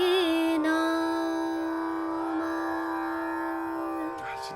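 Solo voice singing a slow Indian classical alap on the words of a bandish, one long sustained tone held over a steady drone for several seconds, with no other sound.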